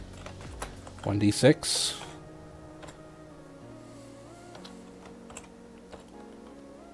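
Keyboard typing in a Notepad++ style code editor for MapTool macros, a quick burst of loud clustered keystrokes early on, then sparse soft clicks under quiet talk.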